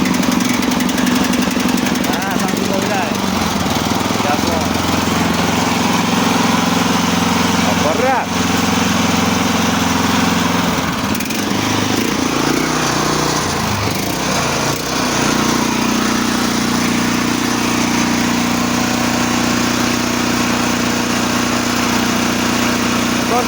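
Loud, steady engine of a branch chipper running continuously, a rough motor drone with brief dips, close by.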